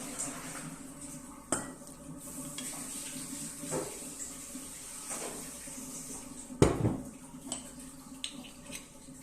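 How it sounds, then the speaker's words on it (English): A utensil stirs chicken wings with cooking wine in a pan, making sparse clinks and scrapes against the metal with a louder knock partway through, over a quiet wet background. "Let's give it a little stir."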